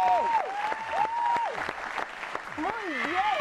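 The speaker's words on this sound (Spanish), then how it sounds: "Aplauso para Jerónimo" Studio audience applause for a contestant on a Spanish-language game show, a steady wash of clapping under a host's loud, animated voice that carries over it throughout.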